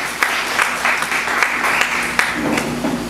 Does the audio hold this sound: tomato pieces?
no